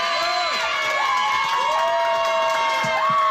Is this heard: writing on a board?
no